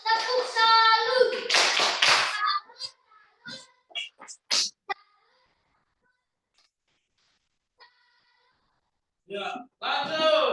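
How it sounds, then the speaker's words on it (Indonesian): A group on a live Zoom session from a university in Merauke does a rhythmic Indonesian 'tepuk salut' clapping routine, a few sharp patterned claps with chanted voices, set between stretches of near silence and speech. "mari kita tepuk salut dulu buat kelompok 4"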